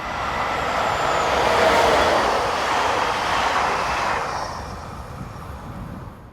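French electric locomotive 25670 rumbling around a curve with its train, a steady broad roar that holds close for several seconds before tapering away into quiet.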